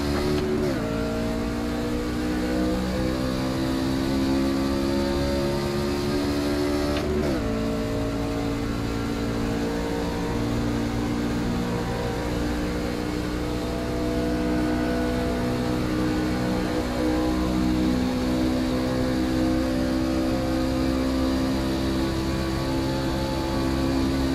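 Race trucks in the iRacing video game Truck Series at Las Vegas, a steady wide-open engine drone held close and loud throughout, with one brief gear shift or pitch drop early on.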